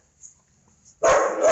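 Several dogs bark loudly together at feeding time, a sudden dense burst of overlapping barks close by after a quiet stretch.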